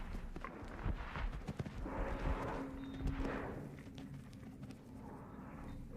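Rhythmic hoofbeats of a wild horse galloping toward a fence over soft ground, steady thuds under a broad outdoor rumble, moderately close.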